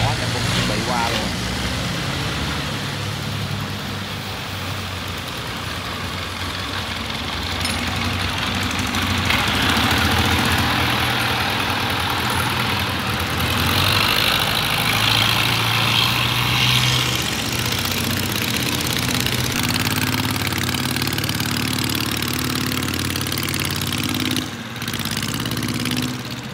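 Engines of boats and a barge idle and rumble steadily at a river sluice gate as the gate opens, a continuous low drone throughout with people talking over it.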